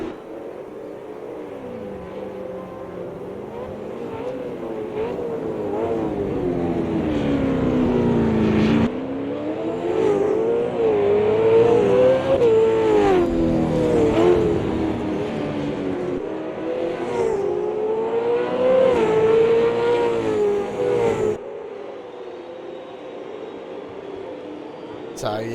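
Race cars lap the Adelaide 500 street circuit, engines rising and falling in pitch as they accelerate, shift and brake, heard beneath continuous race commentary.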